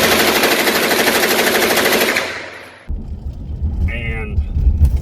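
A suppressed 9mm pistol-caliber carbine fires a fast, continuous string of loud muffled shots for over two seconds, then stops, and a voice talks over low background rumble.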